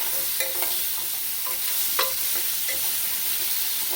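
Vegetables seasoned only with salt sear in a hot pan, a steady loud sizzle filling the whole clip with occasional clicks and scrapes as they are stirred around.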